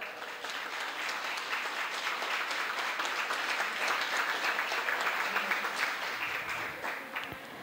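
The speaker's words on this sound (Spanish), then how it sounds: "Un fuerte aplauso, por favor." A crowd applauds steadily and fairly loudly for several seconds, dense clapping that fades slightly at the end.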